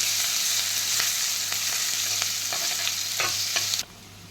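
Ginger garlic paste fries with onions in a pan, a loud, close sizzle broken by repeated spatula scrapes, until the hiss drops away sharply near the end; no voices.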